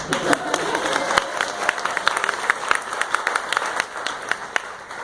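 Wedding reception guests clap in a scattered, irregular burst of individual claps, fairly close and lively, with some voices mixed in.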